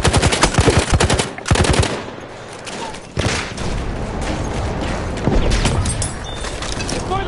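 Machine gun fire in a Battlefield 1 Conquest match, with loud rapid rattling bursts at the start and further chattering volleys later over a dense battle din.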